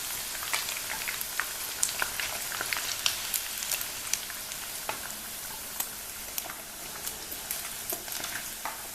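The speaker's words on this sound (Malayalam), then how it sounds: "ഇതുപോലെ നമുക്കിനി എല്ലാം ഫ്രൈ ചെയ്തെടുക്കാം" Chilli chicken pieces deep-frying in hot oil make a steady crackling sizzle with scattered pops and spits. The sound carries on alone throughout at a moderate level.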